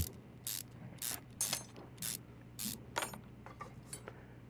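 Stubborn bolts loosened with a ratchet tool on a car in Car Mechanic Simulator 2021, a series of about nine sharp, quick ratcheting bursts spaced irregularly over a faint hum.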